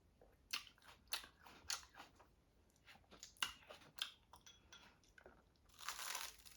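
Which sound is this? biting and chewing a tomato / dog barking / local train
biting and chewing a tomato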